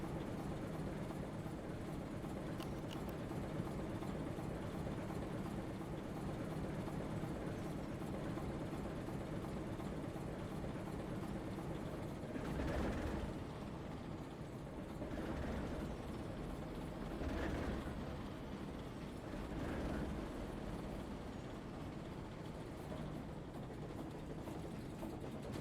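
A locomotive engine in the video game Railroader rumbles steadily, then sputters through several distinct surging bursts spaced a couple of seconds apart, with no voices.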